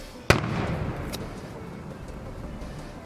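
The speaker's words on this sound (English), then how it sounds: "That was a firework." A single firework bangs sharply and nearby, a sudden loud crack followed by a fading rumble and faint crackle over background noise.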